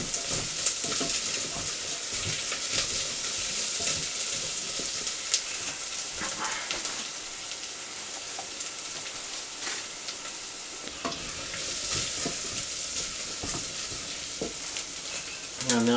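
Chorizo frying in a pan gives a steady, moderately quiet sizzle with occasional stirring scrapes and clicks throughout, and no voices.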